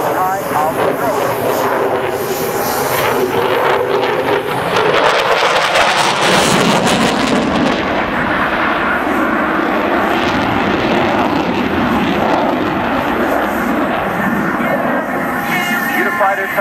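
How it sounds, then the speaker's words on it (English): A Eurofighter Typhoon with twin Eurojet EJ200 afterburning engines performs aerobatics at an airshow, its loud jet roar sweeping and shifting in pitch as it maneuvers, while a commentator speaks over it. "Eurofighter Typhoon is a Canard aircraft powered by twin Eurojet EJ200 2-spool afterburning"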